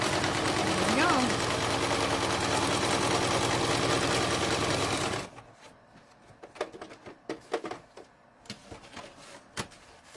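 Sewing machine stitching around the edge of a bee-themed junk journal page, a loud continuous rapid mechanical whir for about five seconds that stops abruptly, followed by quieter scattered clicks and handling sounds.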